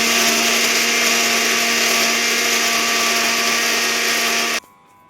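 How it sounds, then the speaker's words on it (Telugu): An electric mixer grinder runs again to grind a turmeric and ginger spice paste finer, a loud, continuous whirring drone that holds steady before cutting off abruptly near the end, leaving faint room noise. "ఇలా ఇంకొంచెం మెత్తగా మనం మిక్సీ పట్టాలండి."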